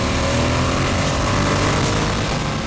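2016 Ducati XDiavel motorcycle engine pulling hard under acceleration as the throttle is rolled on, a loud, steady, close roar with no talking.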